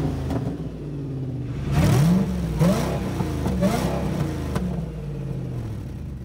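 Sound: Ford GT engine running

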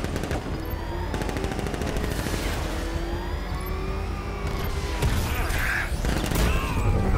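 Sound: gunfire in Batman Arkham Knight video game

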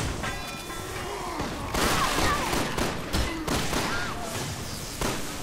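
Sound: gunshots from Resident Evil 6 video game

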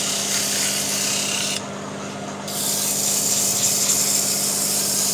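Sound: sanding wooden cup with paperboard

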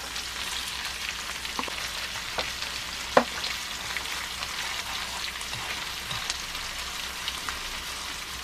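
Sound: tomatoes and tofu noodles stir-frying in oil

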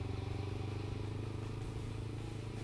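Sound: motorcycle

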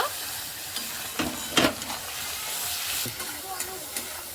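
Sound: sautéing chicken with salt and turmeric in pan

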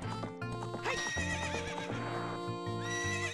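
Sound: horse neighing in the video game Zelda: Ocarina of Time

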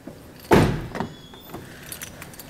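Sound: Toyota Highlander car door being unlocked and opened

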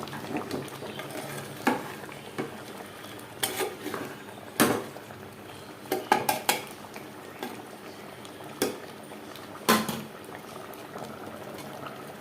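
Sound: stirring mutton curry in a pot

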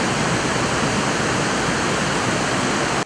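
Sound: Trufanets cascading waterfall in the Carpathians, spring flow

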